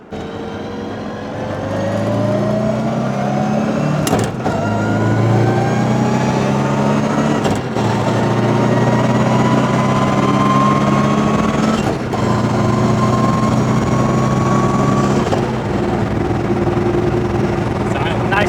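An NA Miata fitted with a GearMotive ZF dogbox cruises in fifth gear, its engine a loud steady drone whose pitch climbs slowly, with road rumble and brief dips as it drives on.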